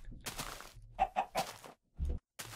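Clucking from a small chicken in the video game Minecraft, a rapid string of sharp clucks and squawks over a bit under three seconds, close and clear with short pauses.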